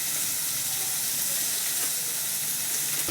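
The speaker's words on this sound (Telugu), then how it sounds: "టమాటాలు అదే కడాయిలో కొంచెం కాలుతుంది" Tomatoes roasting in a kadai give a steady, close sizzle with soft steady hiss throughout, alone with no talk.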